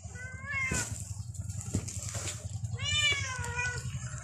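A cat tied inside a sack meows repeatedly, with two long, strained wailing cries over a constant low rumbling background, fairly close and loud.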